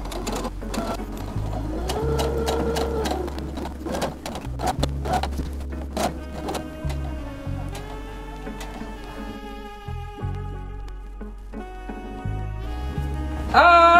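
A sewing machine stitches a patch onto a sweatshirt, a close, continuous mechanical whir and rapid needle clatter with short pauses and speed changes, no talking.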